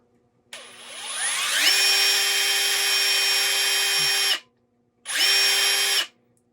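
A Metabo HPT 36V triple hammer cordless impact driver spins up and runs at full speed with a high, steady whine, stops, then gives a second shorter burst.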